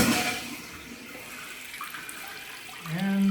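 Water rushing through a newly connected toilet supply line as the valve is opened in a bathroom under construction, a steady hiss and gurgle with a brief low tone near the end.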